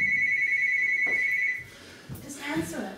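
A telephone ringing with a rapid warbling electronic trill that stops after about a second and a half, followed by people talking nearby.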